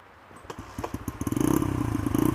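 A motorcycle ridden by a learner in Fairbanks, Alaska, starts with uneven pops and then builds into a quick, rising string of close engine pulses that grow louder and steadier over a couple of seconds.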